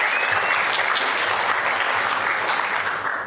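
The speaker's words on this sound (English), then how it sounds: "Can we get a round of applause, please?" Dense, sustained applause from a conference audience at AppSec NZ '21, a loud continuous wash of many hands clapping that tapers slightly at the very end.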